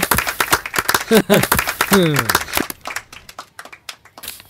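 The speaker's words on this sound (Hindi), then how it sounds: "इसके लिए तालियां बजाओ।" Classroom clapping for a student's exam result in a Hindi film scene, with a short burst of applause from students. It sounds alongside speech and voices that carry through much of the clip.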